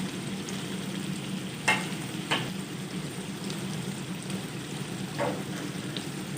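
Chicken karahi frying in a pan with achari pickle, a steady low sizzle under occasional scraping stirs of the spoon, close and moderately loud with no talking.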